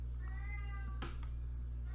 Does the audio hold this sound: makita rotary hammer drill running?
no